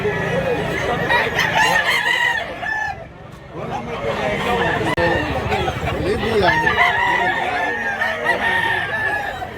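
Gamefowl roosters crow repeatedly and cluck at close range in a busy Mantalungon, Cebu farmyard, the calls overlapping almost without pause, with a voice talking now and then underneath.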